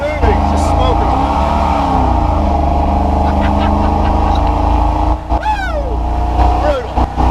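A truck called the Hellwagon does a burnout, its engine roaring loudly and steadily while the tires spin in place and smoke, with whining pitch sweeps near the end and people talking over it.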